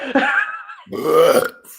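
A loud, drawn-out burp of nearly two seconds, with a guttural start, a short break, then a second rumbling swell that trails off, heard on its own without talk.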